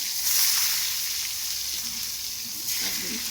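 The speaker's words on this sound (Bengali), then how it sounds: "খুব কড়া করে না ভাজলেও হবে, কারণ এটা তো আবার সেদ্ধ করতে হবে, ওই জন্য অল্প করে ভেজে নেব।" Eggplant pieces sizzle in hot oil for a vegetarian Bengali dish, a continuous loud hissing fry close by, with faint stirring scrapes near the end.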